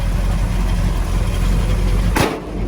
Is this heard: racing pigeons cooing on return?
no